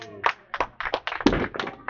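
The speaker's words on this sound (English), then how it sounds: "Give a great applause." Applause at French King Bowling Center in Erving, Massachusetts during a King of the Hill championship, a short burst of clapping in uneven clusters, fairly close and mixed with voices.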